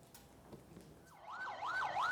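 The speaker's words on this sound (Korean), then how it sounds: "사이렌을 울리며 구급차가 긴급 출동하고" An ambulance responding to an earthquake in West Java, Indonesia, sounds its wailing siren, which rises in and grows louder over the last second under a faint street background.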